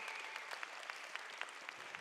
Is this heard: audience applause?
yes